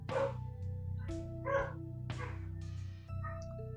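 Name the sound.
dogs barking in the house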